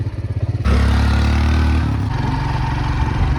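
Motorcycle engine on a dark hill road at night, loud and close, a rumbling idle that jumps into a steady, strained roar as the bike climbs with two riders, with faint rattling under it.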